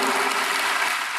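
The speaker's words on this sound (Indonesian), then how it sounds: "beri tepuk tangan lagi buat Tuhan" A church congregation claps together in steady, dense applause that fills the whole short span, loud and continuous with no talk over it.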